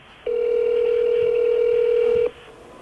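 A single long, loud, steady electronic tone sounds over a telephone line while a call rings through to a hospital, lasting about two seconds before cutting off.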